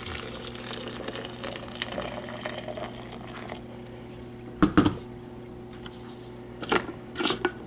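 Freshly boiled water pours into a French press in a loud, continuous stream for several seconds before it stops, followed by a few short sloshes and clinks.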